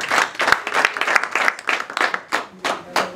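An audience at a family honoring ceremony claps in a rhythmic, unified beat, close and loud, with brief gaps between the steady rounds of applause.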